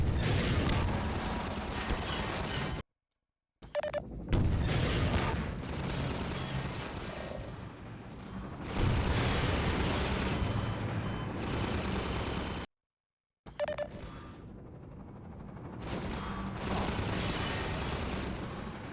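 Rapid gunfire from a weapon in Half-Life 2, fairly loud and near, firing in long continuous stretches broken by a couple of brief silent gaps.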